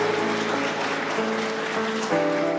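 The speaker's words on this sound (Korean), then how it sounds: "여러분 다시 한번 감사의 의미로 박수 부탁드리겠습니다" Audience applause at a national Teacher's Day ceremony in Korea, a steady dense wash of clapping that runs through the clip at even strength, with a sustained musical tone underneath.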